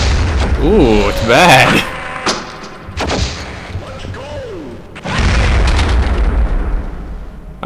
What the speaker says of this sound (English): Wonder what happens if I shoot a guy with a trip mine